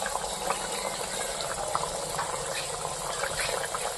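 Rohu fish curry (kalia) bubbles in a pan, a steady close simmer of small pops and gurgles with no pause, alone without talk.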